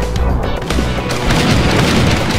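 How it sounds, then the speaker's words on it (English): Dense rumbling explosions from falling bombs in the side-scrolling shooter A.R.E.S. Extinction Agenda EX, a continuous loud roar of booms and crashes with no pause across the clip. "Falling bombs."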